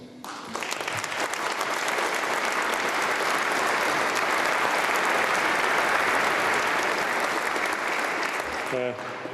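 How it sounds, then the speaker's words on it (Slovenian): Audience at a New Year gala concert applauding the staff, a dense, steady wave of clapping swelling in and holding for several seconds, then tailing off as a voice begins. "jaz mislim, da si zaslužijo tudi en aplavz"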